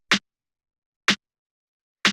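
Punchy, tight snare drum sample layered for classic Detroit house, struck three times at an even one-second interval, each hit short, crisp and dry with a fast decay.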